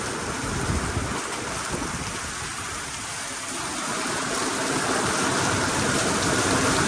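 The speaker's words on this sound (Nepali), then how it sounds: "असिना पनि कति ठुल्ठुलो परेको कि" Large hailstones pelt down in strong wind during a trip to a Shiva temple: a dense, steady roaring patter with gusty wind buffeting, close and loud throughout, with no voices.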